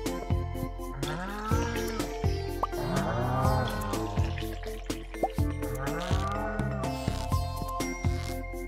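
Cows moo repeatedly on a Stardew Valley farm, a series of drawn-out lowing calls over soft dripping water sounds, with no talking.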